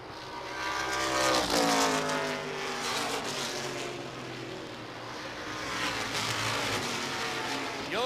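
A 76 Chevy Camaro stock car roars down the back straightaway of a short-track race, and the loud engine climbs in pitch as other cars pass close by.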